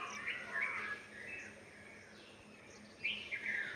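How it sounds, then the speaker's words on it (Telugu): Birds chirping at 5:30 am dawn in peaceful open air, several bright high calls coming in short bursts, fairly faint and distant against a soft background hum. "బర్డ్స్ అన్నీ ఇప్పుడిప్పుడే సౌండ్స్ చేస్తూ ఎంత చక్కగా వినిపిస్తున్నాయో వాయిసెస్"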